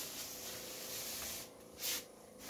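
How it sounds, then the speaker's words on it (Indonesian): Fine spray hissing from a sprayer applying fungicide and insecticide to avocado plants, a steady close mist that drops off briefly, then a short louder burst before resuming more quietly. "Semua semprot secara merata"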